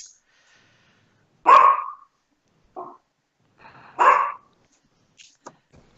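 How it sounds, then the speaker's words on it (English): Two sharp, loud dog barks a few seconds apart, with softer yips and snorts between them and quiet pauses. "It's just bark. Bark, bark."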